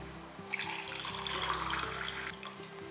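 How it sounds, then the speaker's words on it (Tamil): Water pours into black kavuni rice idli flour in a bowl, a close, steady splashing stream with no talk. "இதில் ரெண்டே கால் கப் அளவுக்கு தண்ணி ஊற்றணும்"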